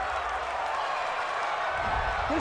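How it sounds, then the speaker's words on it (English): Home stadium crowd at an NFL game between the New Orleans Saints and Miami Dolphins, a broad steady roar of cheering and clapping after a penalty call, heard from a distance at moderate level. "This home crowd, they're happy with that call."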